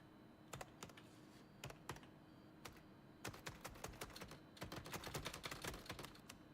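Keyboard typing in The Operator, an FBI agent video game, heard as bursts of crisp, close key clicks in irregular clusters, speeding into a dense rapid run near the end.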